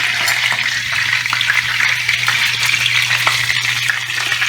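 Polish kotlety mielone, ground-meat cutlets, sizzle loudly in a frying pan with a constant crackling hiss and occasional pops over a low hum, close and continuous.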